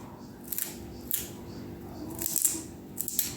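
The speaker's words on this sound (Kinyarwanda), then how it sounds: "Nkoresha akababi kamwe ngakata duto cyane." A knife chops a leek leaf finely on a board in a series of sharp, crisp cuts with short pauses between bursts, close and moderately loud.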